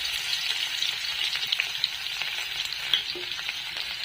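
Crushed garlic dropped into hot oil with green chilli for a fenugreek leaf dish, a bright, close crackling sizzle with sporadic pops, no voices.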